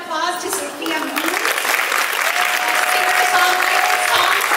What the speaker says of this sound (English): Let's give another round of applause to Sophia Moon,